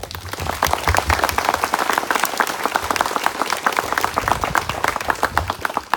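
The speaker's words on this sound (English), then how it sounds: "Let's give a round of applause." Crowd applause at a Memorial Day ceremony, a dense, steady round of many hands clapping close and loud, sustained throughout without voices.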